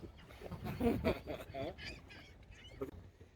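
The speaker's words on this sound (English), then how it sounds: "I like some geese." Geese honk a few times at a distance, mixed with people talking nearby outdoors.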